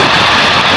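A large Antonov aircraft engine gives a steady, loud, broadband roar with a low rumbling base, continuous and close, with no voices over it.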